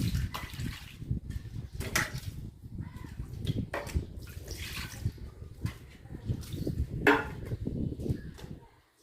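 Water poured and splashing over dishes and pans being washed with homemade dishwash liquid, a soft, continuous trickle broken by small clinks and knocks, fairly quiet and close.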